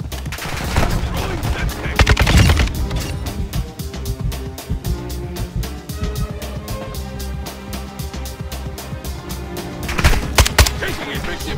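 Rapid automatic fire from a Kastov 762 rifle in Call of Duty, a long rhythmic stream of close, loud shots with heavier blasts near the start and end.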